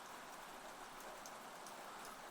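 Light rain falls in a steady, even patter, with soft drops spread across the whole stretch and no pauses, gentle and close with nothing else heard.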